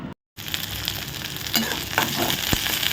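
Onion and green chili sautéing in a pan for carrot rice, with a steady close sizzle, a brief drop to silence near the start, and a few stirring scrapes and clinks.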